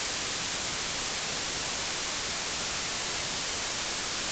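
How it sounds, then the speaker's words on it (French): Steady broadband white noise fed in as the input signal to a neural network singing-voice separator, a dense uniform hiss running unbroken and fairly loud from start to end with nothing else over it. "mais en lui donnant un bruit blanc"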